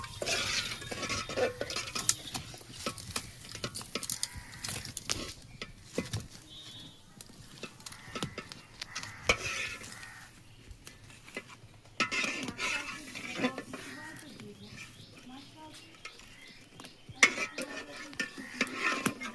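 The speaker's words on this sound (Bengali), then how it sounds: "দুধটা ফুটে নিচ্ছি, নেড়ে চেড়ে ফুট ধরে গেলে একটু ভিনেগার দিয়ে ছানাটা কাটিয়ে দেবো" Milk being stirred in a pot as it comes to the boil, before vinegar is added to split it for chhana: scraping and soft clinks of a utensil against the pot, on and off with small pauses, close and fairly quiet, no voices.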